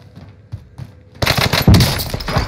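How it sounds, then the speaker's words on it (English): Automatic weapon fire from a Rebirth Island shooter video game: sparse distant shots first, then loud, dense rapid bursts of gunfire rattling continuously for the second half. "Taking effective fire."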